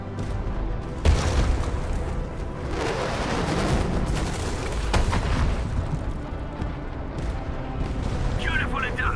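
Artillery strike exploding in the video game Arknights Endfield, with a sharp boom followed by a sustained roaring rumble and further blasts, all dense and loud beneath in-game dialogue.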